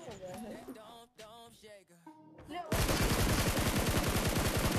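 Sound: gunshots in a mobile video game

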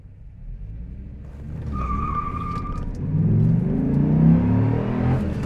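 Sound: 2004 Dodge Ram SRT-10 pickup launching and accelerating to 60 mph

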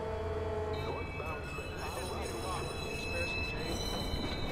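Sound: train moving in Watch Dogs video game

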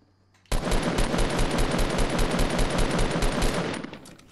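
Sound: shotgun shots in the video game Fortnite

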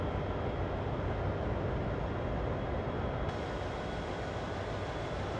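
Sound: diesel locomotive accelerating in video game Train Sim World

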